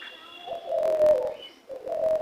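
A spotted dove gives a soft, low cooing call, two short phrases close by, alone without any talking, at a zoo in Ranchi.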